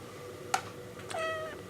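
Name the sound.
cat meowing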